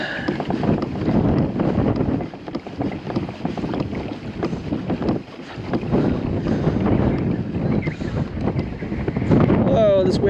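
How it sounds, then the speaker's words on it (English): Strong wind buffeting the microphone on a beach beside a Hobie 2020 Outback kayak, a loud continuous rumbling roar that gusts and surges, while a person talks quietly beneath it. "Oh, this wind is crazy."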